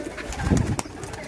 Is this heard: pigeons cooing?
yes